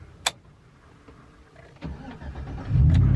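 A Chevrolet Silverado 1500 engine starts: a sharp click, a short cranking whir, then the engine catches and settles into a loud, steady idle; no talk.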